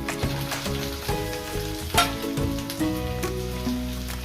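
Tindora (ivy gourd) tipped into a hot pan breaks into loud, steady sizzling and frying, with a sharp burst of crackle about halfway through and no talking.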